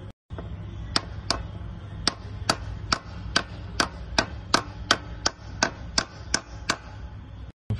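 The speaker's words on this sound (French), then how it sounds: "j'ai tapoté avec une douille au-dessus pour venir le mettre à fleur du rebord ici" A socket tapping a bearing guide into place on a Nissan 300ZX during a manual gearbox swap: about fifteen sharp metallic knocks at a steady, even pace, close and distinct over a low background hum.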